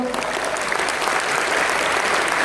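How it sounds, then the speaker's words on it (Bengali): Loud, dense applause from an audience at a corporate team event, a continuous wash of many hands clapping at once, steady throughout with no break or talk. "একটু জোরে হাততালি দিয়ে জানান তো"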